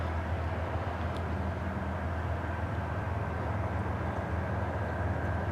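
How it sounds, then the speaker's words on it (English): Freight train rumbling steadily through Rocky Mount, North Carolina, a continuous deep low roar with a faint sustained tone above it, near and unbroken throughout. "you can obviously hear the train rumble"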